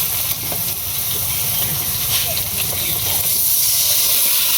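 Spices and onion paste frying in hot oil give a steady, close hiss and crackling sizzle with stirring scrapes, continuous throughout, with a voice faintly present in the background.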